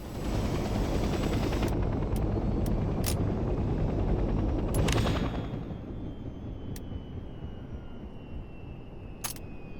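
A loud transport helicopter rotor drone in the video game Hell Let Loose Vietnam, with sharp mechanical clicks and bursts over it, fading to a quieter engine whine after a few seconds.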